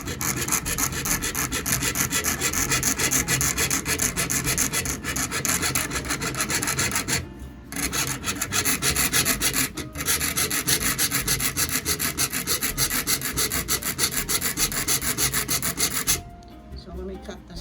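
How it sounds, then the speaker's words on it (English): Steady, rhythmic rasping strokes of a hand saw cutting through metal for a ring, loud and close, with two brief pauses between runs. "I almost start sawing, the sawing motion, before I introduce the metal"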